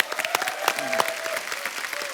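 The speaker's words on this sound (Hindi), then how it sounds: "इनके लिए जोरदार तालियां" An audience applauds at a live comedy show, a steady patter of clapping that continues through the short stretch, with light background tones beneath.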